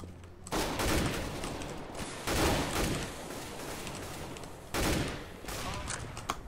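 Rapid bursts of gunfire in the shooter game CS:GO crackle out in three dense volleys, each about a second long, with quieter shots and game noise between them.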